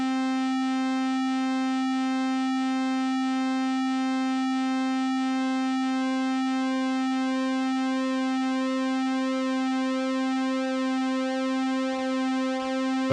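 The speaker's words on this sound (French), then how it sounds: "On voit bien la largeur d'impulsion évoluer dans le temps et monter et descendre selon la courbe donnée par le LFO." A Korg MonoPoly synth holds one steady, harmonically rich tone while an LFO sweeps its pulse width, so the timbre slowly rises and falls in a continuous wavering cycle, loud and alone.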